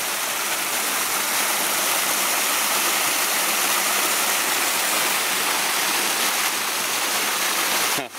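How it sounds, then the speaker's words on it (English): Steady rushing roar of a small waterfall on the Aotea Track, Great Barrier Island, loud and close, unbroken for the whole stretch before cutting off abruptly at the end. "Little bit of a waterfall."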